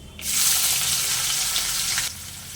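Chopped onion dropped into hot oil spiced with bay leaf, dried chilli, cinnamon, clove, cardamom and whole cumin, a sudden loud sizzle that holds for about two seconds and then drops away.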